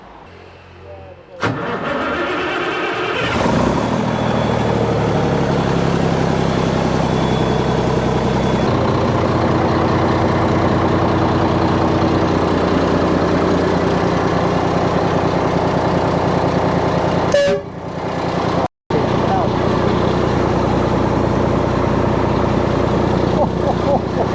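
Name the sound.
Foden truck with Cummins engine running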